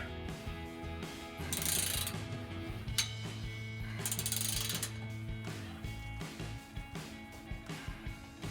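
A torque wrench ratchets in quick clicking strokes while tightening an exhaust clamp on a Ford F-150, close and fairly quiet, with a mechanical whir in between and no talking.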